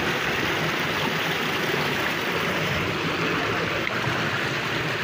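A rocky arroyo stream, Los Hornitos near La Laja ranch in El Grullo, Jalisco, rushes steadily in a dense, even broadband wash that stays unbroken and close throughout, with no voices.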